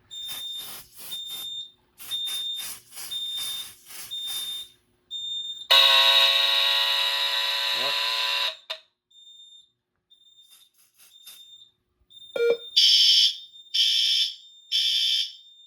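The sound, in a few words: Notifier NFS2-640 fire alarm sounding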